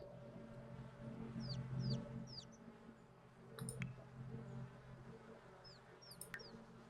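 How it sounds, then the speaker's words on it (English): Chickens cluck softly in The Sims 4 life-simulation game, a few short clucks over a quiet background and faint game ambience with chirping bird-like calls. "Are you watching my chickens?"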